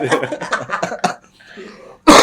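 A short burst of chatter, a quiet pause, then one loud, close cough at the end.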